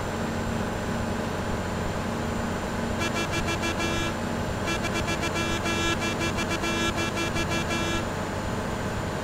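A Volvo Marcopolo G8 1200 coach on the Cuenca to Guayaquil highway sounds its horn in two bursts, a short blast then a longer one, over steady road and engine noise.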